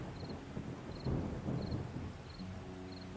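Steady rain with low rumbling thunder fills a video game scene, a soft wash of noise swelling slightly midway, with faint repeating high beeps from the game.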